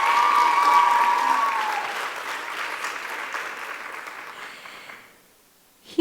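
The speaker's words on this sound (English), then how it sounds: "Give them a nice round of applause," A crowd at an Arangetram celebration claps loudly, then the applause thins and fades out to near silence by the end, with a brief murmur of voices mixed in.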